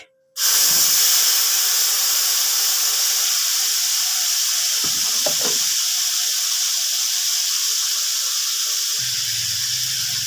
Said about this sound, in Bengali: তেলটা গরম হয়ে গেছে। প্রথমে আমি দিয়ে দিচ্ছি রসুন পেস্ট।